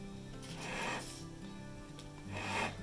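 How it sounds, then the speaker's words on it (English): Hands fold the trimmed edge of a bottom pie crust for a sour cherry pie, giving soft, close rubbing and scraping strokes in two main passes, one early and one at the end, with no voices. "now I'm going to fold up the underside from that bottom crust"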